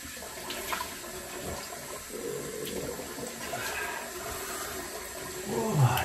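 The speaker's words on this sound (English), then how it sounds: "Pours off with a bit of cold water." Water runs from a tap to rinse a razor during a wet shave at a sink, a steady splashing flow that swells louder toward the end.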